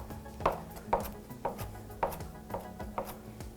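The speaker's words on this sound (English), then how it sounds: "You can also chop this as fine or big of pieces as you want." A kitchen knife chops fresh, washed and dried cilantro in a steady rhythm of about seven crisp, close strikes, roughly two per second, with no voices.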